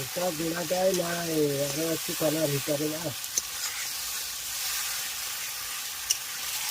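Goat meat and country chicken fry in a pan with a steady close sizzle and hiss. A person talks briefly over it at first, and then the frying continues alone.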